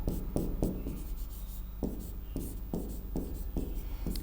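Chalk or marker strokes on a board during a Hindi classroom lesson, a run of short scraping taps in an irregular rhythm, close and fairly quiet, with no talking.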